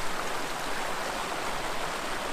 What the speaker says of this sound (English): Got a nice view of the creek.